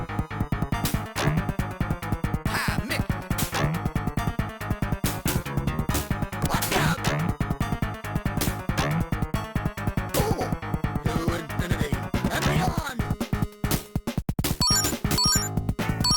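Chiptune music from a Toy Story video game, generated by a Yamaha YM2612 sound chip, plays continuously with dense, busy layered tones and sharp percussive hits throughout.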